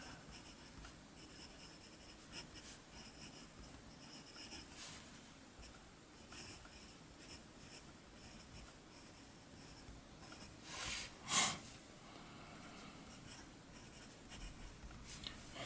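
Fountain pen with a medium nib scratching steadily across paper, a faint, close, continuous rubbing and scribbling with small strokes, and a brief louder scrape near the end.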